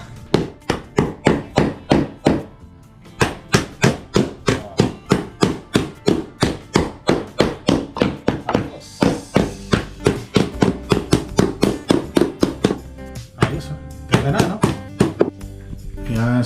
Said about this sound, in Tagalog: Pupukpukin ko na lang ng martilyo to.